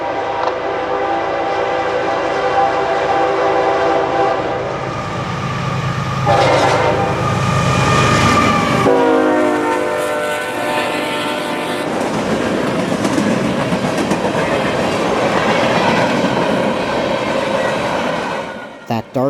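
CSX L796, a freight train, rumbles past at night on a Florida line, its horn blaring in long harmonic blasts that bend in pitch as it nears, followed by steady wheel and rail clatter and rushing noise that holds until an abrupt end.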